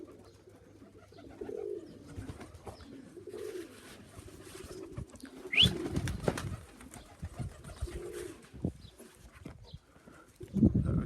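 Tippler pigeons over their loft, heard as soft repeated coos and wing flutters, with a few sharp bird calls and rustling bursts scattered through, moderately close and unbroken by talk.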